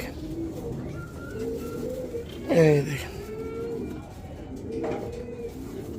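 Pigeons coo nearby in low, rolling calls, with one louder burst in the middle, while someone talks over them.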